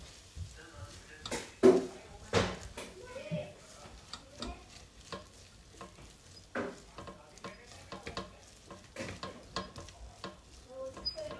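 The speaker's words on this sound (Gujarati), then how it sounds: "હવે બધું મિક્સ કરીશું આપણે." Dosa filling with sambar masala is mixed in a pan, with intermittent scraping and clinking of the spoon over a faint sizzle, quiet and irregular.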